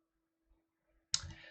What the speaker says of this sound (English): It's called riffle shuffle, and you can actually hear it when I do it on my desk